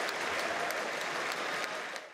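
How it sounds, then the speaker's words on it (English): An arena crowd at the Scotties curling championship cheers and applauds for the Saskatchewan team, sustained dense clapping and cheering close and loud, tapering slightly at the end. "The crowd cheers every time Lawton heads to the hack."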